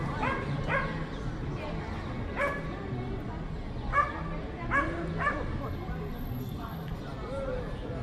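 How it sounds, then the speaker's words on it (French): Several dogs barking and yipping in a public garden in Lisbon's Principe Real, with repeated short barks at moderate distance under a person talking, mixed with a whimper or two. "Vous avez énormément de chiens dans ce jardin."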